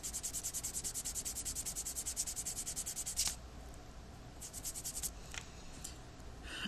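A kneaded eraser rubbed back and forth on paper, with a fast even run of close scratchy strokes, then a pause and a shorter, quieter burst of rubbing.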